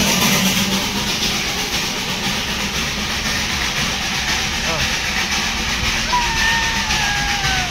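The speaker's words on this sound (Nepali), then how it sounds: "यो चाहिँ कोइलाले चल्ने ट्रेन है।" The coal-fired Darjeeling toy train, a narrow-gauge steam railway, gives a loud, continuous chugging roar close by, with people talking over it.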